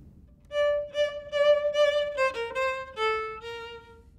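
A simple melodic fragment played by the first of four call-and-response voices, a clear harmonic tone holding and stepping through a few notes, alone and moderately loud.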